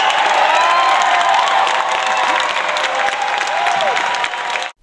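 A crowd at a film festival applauds loudly, thick sustained clapping with a few scattered cheers and whistles, close and continuous before cutting off abruptly.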